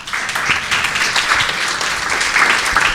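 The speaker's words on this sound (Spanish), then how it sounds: "¿Podemos darle un aplauso al Señor," A church congregation claps in praise during a sermon, a steady, fairly close burst of many hands that runs on without a break.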